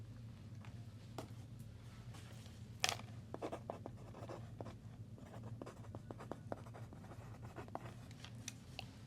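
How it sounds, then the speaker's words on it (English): A pen scratches on paper in quiet, intermittent strokes and taps over a steady low room hum, faint and close during an applied kinesiology allergy session. "Let me write that down."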